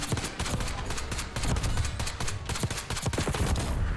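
Rapid rifle fire from a Merrick 556 rifle in Black Ops 6 crackles in quick, loud, close shots, a steady stream of sharp reports with brief gaps throughout.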